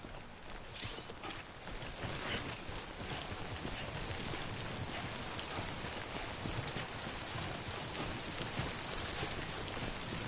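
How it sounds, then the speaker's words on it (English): Timefall rain in the video game Death Stranding pours steadily with a dense patter and spatter on surfaces, continuous and fairly loud throughout, with no voices. "Don't stay out in the rain any longer than you have to."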